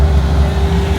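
A Ferrari 458 at the Le Vigeant circuit drives by with a loud, steady engine drone that stays close and constant for about a second.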